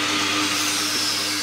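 Steady high-pitched whine of a power drill running continuously through metal, close and fairly loud, with no voices.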